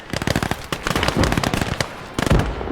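Rapid bursts of grenade explosions and gunfire crackle in a Soviet WWII battle video game, dense sharp blasts close together over a few seconds.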